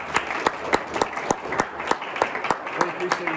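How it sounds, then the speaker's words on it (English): A church congregation gives Glenn a round of applause, with sharp, fairly close claps standing out in an uneven rhythm over a thinner crowd clapping, and faint voices mixed in. "Can we give Glenn a round of applause?"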